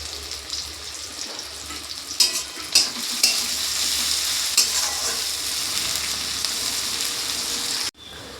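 Onions with salt frying in a pan, a continuous bright sizzle with several spatula clinks and stirs, ending abruptly with a brief cut near the end, no speech.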